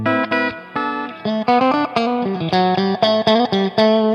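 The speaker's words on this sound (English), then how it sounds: "this is the clean channel with a little sparkle boost and the reverb" A BluGuitar AMP1 amplifier on its clean channel with sparkle boost and reverb plays a bright, sustained guitar riff of rhythmic chords and single notes, loud and close, with reverb tails between the strums.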